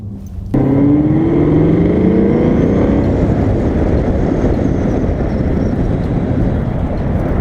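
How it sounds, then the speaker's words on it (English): A 2018 Chevrolet Camaro SS accelerates, its engine rising from a low rumble into a loud, steady roar with climbing harmonic tones, heard up close from inside the car with no talking. "we're going to get a little bit of more acceleration right here"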